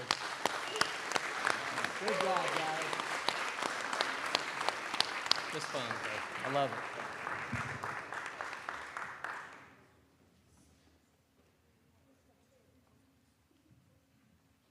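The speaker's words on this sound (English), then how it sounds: "big round of applause for these boys" Big round of applause for a group of boys at a mayor and council meeting, loud sustained clapping under cheerful voices for about ten seconds, then cutting off to a quiet room.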